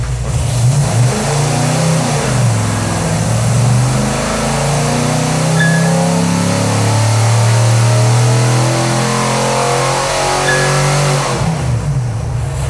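Low-buck hot rod big block engine on a dyno pull from 2,500 to 5,500 rpm, a loud deep roar climbing steadily in pitch for about ten seconds before dropping off.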